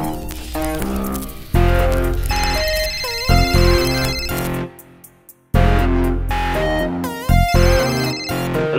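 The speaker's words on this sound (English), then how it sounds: "Until one day, a phone call changes everything." A telephone ringtone blares loudly in a dramatic trailer, a distorted, electronic ringing pattern repeating in bursts with a brief dropout midway, alone with no voices.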